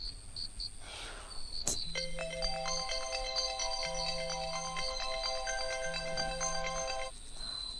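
A mobile phone plays an incoming-call ringtone, a bright looping melody repeating steadily for several seconds, while a soft low buzzing pulses underneath and a brief crackle comes just before the tune starts.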